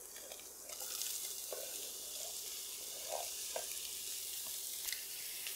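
Onion sizzling in coconut oil in a hot Dutch oven, a steady hiss that swells slightly after the first second and holds, with a few faint clinks, no talking.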